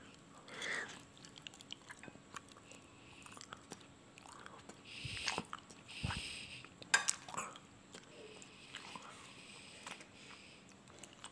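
Close, quiet chewing and biting while eating khao chae, a traditional Thai dessert of rice in jasmine-scented water, with soft mouth sounds and a few crisp bites scattered across the stretch.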